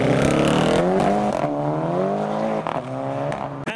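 A Volkswagen Golf launches at a car meet: the engine revs hard and rises in pitch, eases briefly, then pulls again, loud and close throughout.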